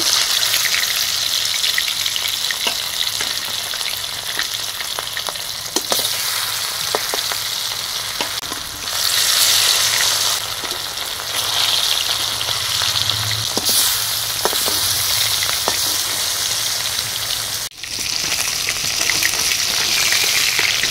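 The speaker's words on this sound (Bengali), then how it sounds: "এখন মাছগুলো ভেজে নেব।" Bele fish pieces frying in salted hot oil in a pan, a steady dense sizzle with crackling pops running close and loud throughout, broken by a brief pause near the end.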